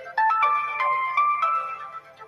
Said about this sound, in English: You will receive a notification to open your UPI-enabled app.